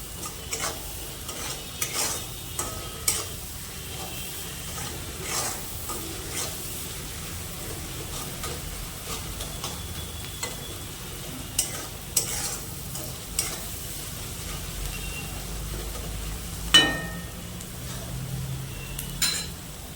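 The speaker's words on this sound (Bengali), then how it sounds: "পেঁয়াজের সাথে ভালো করে লবণ, চিনি আর কাশ্মীরি লঙ্কার গুঁড়োটা মিশিয়ে নিচ্ছে।" Onions stirred in a pan with salt, sugar and Kashmiri chili powder for a Bengali poppy-seed fry in a village kitchen, a continuous soft sizzle with scattered scraping strokes and one louder clink near the end.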